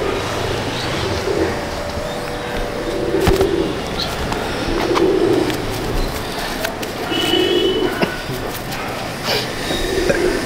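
Madrasi pigeons in a loft give a few soft, repeated low coos at a steady pace over a rough background hum.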